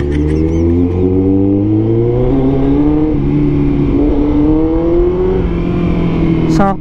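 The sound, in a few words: motorcycle exhaust revving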